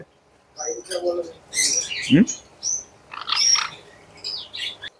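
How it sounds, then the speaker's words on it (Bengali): Cockatoos and grey parrots call nearby in short squawks and chirps, irregular and fairly loud, with a few overlapping harsher calls. "আরো কিছু কাকাতুয়া আছে, গেরে প্যারট আছে"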